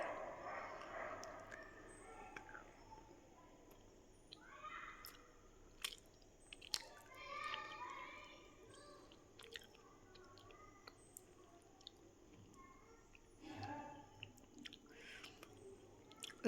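Soft crunching and chewing of a crunchy white cookie, close and quiet, with small irregular bites and squishy mouth sounds over a faint background hum.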